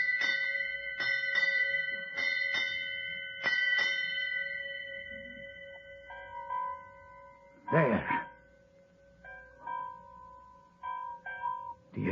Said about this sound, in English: Will you strike 8 bells, mister?